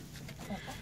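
Hens in a chicken coop give short, close clucking calls over a steady low background, with no talking.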